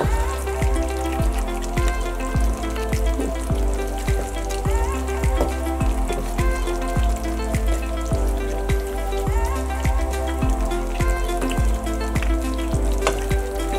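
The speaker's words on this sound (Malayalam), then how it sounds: "അതൊരുപാട് വികർസമായിട്ട് ഭയങ്കര ശക്തിയായിട്ട് ഇളക്കരുത് പതുക്കെ ഒന്ന് ഇളക്കി കൊടുക്കുക" Fish curry in a pan is gently stirred, giving a steady simmering sizzle with a regular rhythm of soft scraping strokes, close and moderately loud.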